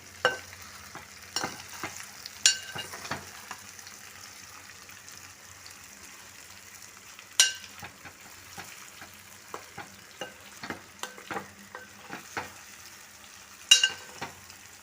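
Stuffed brinjals deep fry in oil for a Telangana-style curry, with a faint continuous bubbling sizzle broken by scattered sharp clinks and scrapes of a utensil against the pan.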